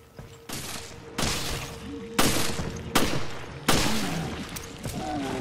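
Several loud gunshot bursts from the video game Resident Evil: Revelations HD, each with a sharp crack and fading tail, arriving every second or so over a steady background hum.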